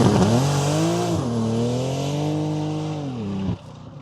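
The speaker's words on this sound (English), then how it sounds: "She's literally lighting up all 4 wheels halfway down the strip." A BMW drag car spins all four wheels down the strip, its engine screaming loud and close at high revs with a sustained whine that dips and holds before abruptly cutting off.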